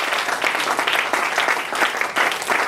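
Congregation applauding during a church worship service, a steady dense wash of clapping hands filling the room continuously from start to finish, loud and close with no voices breaking through.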